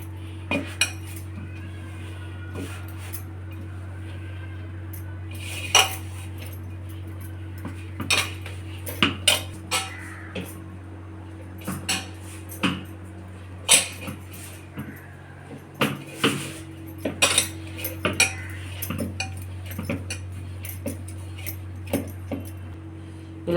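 A spoon scrapes and clinks against a bowl while paneer masala is mixed, giving irregular metallic taps and knocks close up over a steady low hum, with no talk.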